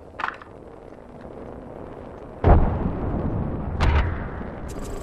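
A frag grenade detonates in Apex Legends with a sharp, booming blast and a rumbling tail, followed by a second, smaller burst and a few faint pops and clicks.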